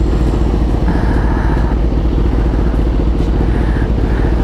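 A Kawasaki ZX-10R 1000cc sport motorcycle engine runs loud and close, a dense, steady rumbling drone with a continuous mechanical rattle throughout.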